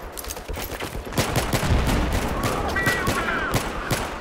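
Sustained automatic gunfire in Battlefield 3 co-op, loud and close, rapid bursts rattling on continuously with dense overlapping shots.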